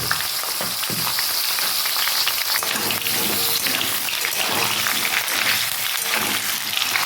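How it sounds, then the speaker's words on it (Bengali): Pieces of pointed gourd and potato fry in hot oil. A dense, steady sizzle crackles loud and close for the whole stretch, with no talk over it. "তেল গরম হয়ে গেছে আমি কেটে রাখা পটলগুলো দিয়ে ভেজে নেব"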